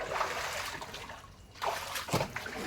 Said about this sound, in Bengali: এই দেখো আমাদের উঠোনে জল ঢুকে গেছে